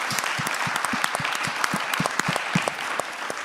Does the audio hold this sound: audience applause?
yes